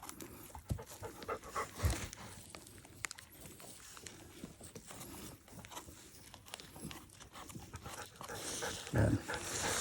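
A dog pants steadily and rapidly outdoors on a mushroom foraging outing, with scattered footsteps and rustling around it. The panting grows louder toward the end.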